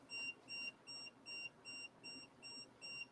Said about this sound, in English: So forgive the beeping, guys, but that's just what it is. That's what this thing does.